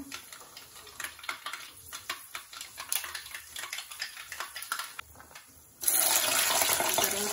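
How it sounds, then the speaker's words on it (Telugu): A spoonful of mustard seeds spluttering in hot oil for homemade tomato pickle: quick, irregular crackling pops, followed by a sudden louder, steady sizzling hiss toward the end. "ఆయిల్ బాగా బాయిల్ అయిన తర్వాత, బాగా కాగిన తర్వాత ఆవాలు 1 స్పూన్ వేసుకోవాలన్నమాట. అవన్నీ బాగా చిట్టుపట్టాలిన తర్వాత"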